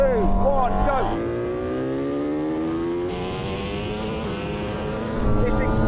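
An 1100 hp Lamborghini Huracán and a Red Bull MotoGP bike accelerate hard in a drag race from 50 mph, engines screaming and rising in pitch through the gears, loud and close, with a brief exclamation from a voice at the start.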